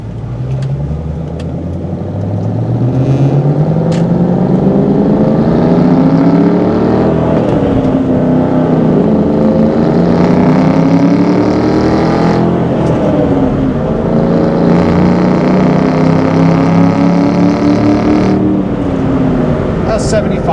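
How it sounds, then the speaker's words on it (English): A 2003 Ford Mustang Mach 1 with a 4.6 V8, five-speed and SLP Loudmouth exhaust accelerates through several gears, a loud, steady engine drone that rises in pitch, drops at each shift and climbs again. "I will say the SLP loudmouth exhaust that's on this car is not crazy loud."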